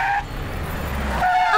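A car brakes to a stop with a sharp tire squeal at the start and again near the end, over a low engine rumble, in a dubbed South Indian action film scene.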